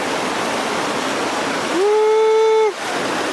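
The Benta River Falls waterfall rushes with a steady broadband roar, loud and continuous, briefly overlaid by a sustained whooping voice.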